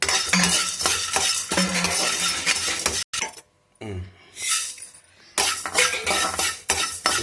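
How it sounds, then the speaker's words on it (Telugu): Coriander seeds and cumin dry-roasting in a pan, with steady scraping and stirring, clinks of a utensil against metal, and a brief quiet pause midway before the stirring resumes close up. "ధనియాలు బాగా వేయించుకోవాలి. జీలకర్ర వేయించుకోవాలండి."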